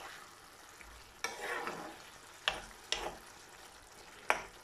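Fried king prawns and courgette stirred in a frying pan, several distinct scraping strokes over a quiet, steady sizzle, heard close and alone.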